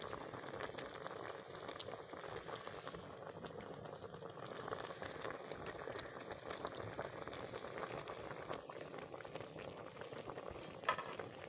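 Mutton boils in a pot, bubbling and simmering steadily at low volume, a constant soft boiling hiss with no one speaking.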